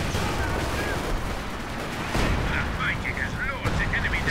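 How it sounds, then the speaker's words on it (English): Artillery fire in Company of Heroes 2 crashes down in a dense, continuous barrage of booming blasts and gunfire, with shouted game voices over the battle. "My own artillery's coming down on my boys now"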